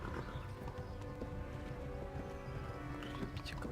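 Horse galloping in Kingdom Come: Deliverance, a steady faint clip-clop of hooves under a dense wash of game ambience.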